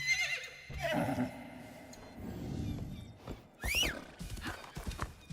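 A horse whinnies loudly and snorts in the video game Assassin's Creed Shadows, with hooves clopping and shuffling underneath in a game soundscape.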